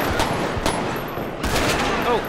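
Repeated shotgun blasts in the police game LSPDFR, several sharp broadband bursts a fraction of a second apart against a steady noisy background, fairly loud and close with no talk over them.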